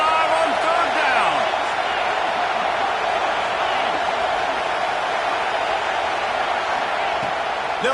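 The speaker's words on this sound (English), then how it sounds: "The Buckeye crowd alive on third down." A Buckeye football stadium crowd roars on third down, a dense, sustained wash of cheering and noise that stays loud and steady throughout with no distinct single voice.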